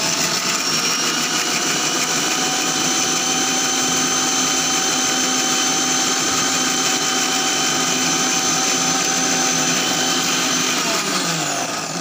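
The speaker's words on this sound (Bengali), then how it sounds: "আমি কিন্তু ব্লেন্ড করে নিয়েছি।" Blender grinding taro stems, a loud, steady high-pitched whir running continuously close by, then spinning down at the end.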